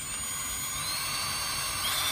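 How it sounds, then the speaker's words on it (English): A steady high-pitched whine of a drill with a 15/64-inch bit running continuously through the aluminum of an Airstream trailer, loud and close, with no pauses or talk. "So we drill a little bit bigger hole using a 15/64."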